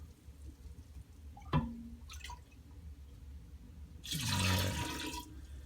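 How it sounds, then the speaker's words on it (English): Home-brewed kombucha poured into a glass jar with a thick SCOBY, aimed toward the edge; a few drips and splashes come first, then a steady pouring splash of liquid near the end. "I'm going to get away with pouring it, but I'm going to pour towards the edge so it'll go underneath it."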